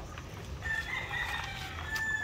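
Hens and a single rooster on a spacious farm range, heard as a rooster's crow and scattered clucking at moderate distance over steady outdoor background noise, with no voices.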